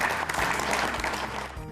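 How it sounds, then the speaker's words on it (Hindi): A crowd bursts into loud, sustained applause, many hands clapping densely together for a couple of seconds. "जोरदार तालियां।"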